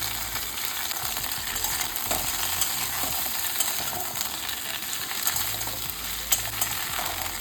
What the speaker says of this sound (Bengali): সেই জন্য আমি কিন্তু এমনি ফ্রাই করছি